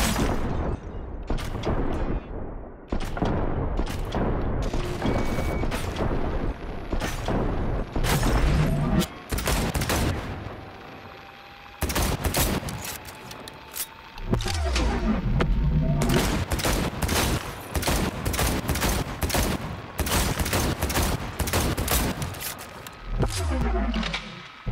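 Gunfire in the video game Cyberpunk 2077, dense rapid volleys of shots and booms sounding almost continuously, loud and close, with a brief lull in the middle.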